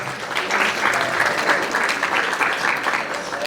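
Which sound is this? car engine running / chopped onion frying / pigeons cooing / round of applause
round of applause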